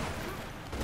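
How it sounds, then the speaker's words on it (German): A brief, dense burst of enemy gunfire in Tomb Raider: Legend, a noisy crackling volley filling the short moment. "Die schießen aber gut."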